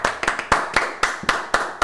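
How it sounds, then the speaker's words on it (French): A few people clap for a man in a home setting, sharp close claps in an uneven rhythm, roughly one every quarter second, with no talk. "Et on applaudit Alain."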